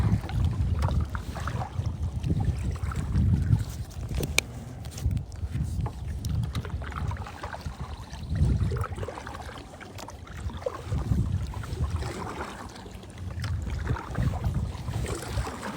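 Wind gusts rise over open water around a kayak angler's boat, a steady rumbling wash with buffeting bursts against the microphone, continuous and fairly loud with no talk.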